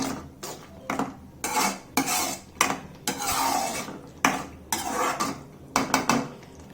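Egg curry masala stirred in a pan, a utensil scraping and clattering against the metal in repeated strokes, close and fairly loud, with no voices.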